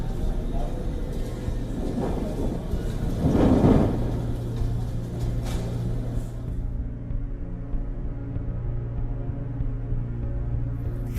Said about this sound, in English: A massive dust storm accompanied by rain hit the national capital region in India in the early hours of the morning today